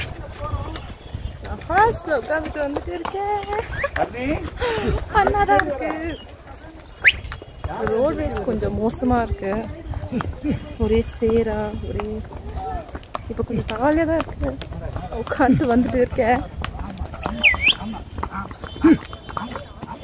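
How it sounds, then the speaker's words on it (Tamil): Hooves clip-clop on a mountain road during a pony ride, a light irregular clatter beneath near, continuous talking and a steady low rumble. "டேடியோட குதிரை கஷ்டப்பட்டு போகுது. என்னுடைய குதிரையும் ரொம்ப கஷ்டப்படதா செய்யுது."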